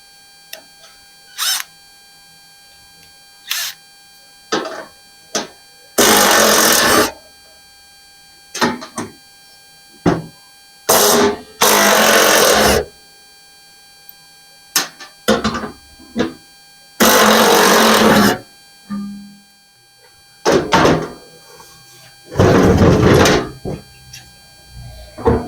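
Bolts holding the auger bushing cap on a Yard Man 1028 snowblower are undone with a power tool, heard as repeated short bursts of loud buzzing whir separated by clicks, clanks and quiet pauses.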